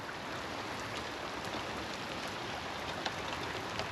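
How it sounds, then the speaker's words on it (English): Steady, dense rain hiss fills the scene without pause, with occasional faint drips standing out; no voices. "It's been raining pretty good."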